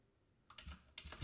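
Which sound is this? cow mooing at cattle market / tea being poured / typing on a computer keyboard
typing on a computer keyboard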